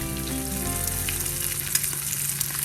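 Masala-coated avoli fish fries in a pan with a loud, dense sizzle and crackle, steady throughout with small spits and pops, no voices.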